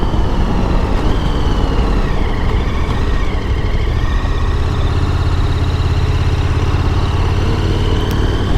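KTM 1290 Super Adventure R motorcycle rolling slowly in fourth gear, a low steady engine rumble with wind noise, loud and close from the rider's position, no voices over it.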